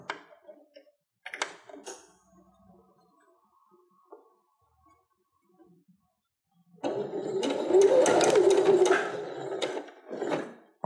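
Sewing machine stitching lycra fabric for lace-trimmed underwear, a few brief ticks and clicks, then a steady close motor whirr of stitching for several seconds, with no talking.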